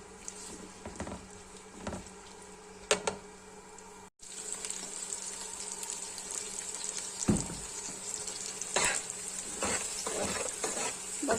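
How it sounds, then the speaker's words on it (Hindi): Onions fry gently in oil for spicy degi mutton, making a soft, steady sizzle with scattered crackles and occasional utensil clinks, briefly dropping out near the middle before resuming. "बस ये हल्के से हमारे प्याज जो है वो फ्राई हो चुके हैं।"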